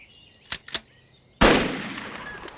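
A single loud gunshot cracks out and echoes away, as in a countryside grouse shoot, following two short faint clacks, with no voices.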